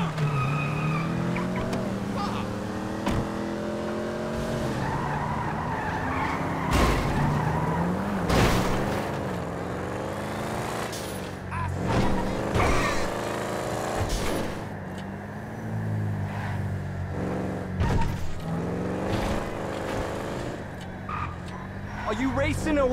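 Car engines rev and tires skid during a street race in Grand Theft Auto V, with engine pitch rising and falling over a steady mechanical drone while voices talk over the action.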